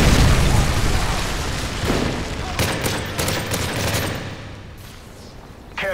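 Incoming missile strikes and gunfire in Modern Warfare 3 roar as a dense, continuous barrage of explosions and rapid shots, loud and close, thinning slightly toward the end.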